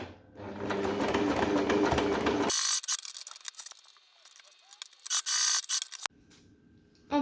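A sewing machine stitches fabric for a baby's play mat, giving a steady, close mechanical whirr for about two and a half seconds before it stops and quieter fabric handling and rustling follow.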